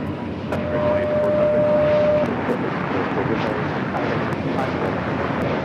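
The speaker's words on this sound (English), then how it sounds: "This is Spirit Airlines 2084 taking off to Houston Intercontinental on the A320neo" A Spirit Airlines Airbus A320neo jet takes off at LAX, a loud, steady broadband engine roar that swells and holds throughout, with a brief tonal whine early on.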